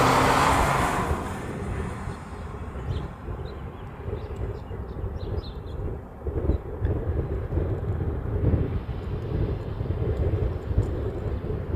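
A FedEx jet airliner departs for Sydney from the Reef Runway at a busy airport, a steady loud engine roar that swells and holds throughout, heard from a distance with no talk.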